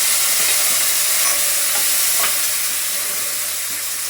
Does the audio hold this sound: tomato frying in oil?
yes